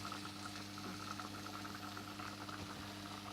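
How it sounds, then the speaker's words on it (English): Seafood pilaf rice cooking in a pot gives a steady, low bubbling simmer with a faint continuous hum underneath, quiet and unbroken. "We're just literally waiting for the rice to cook really now."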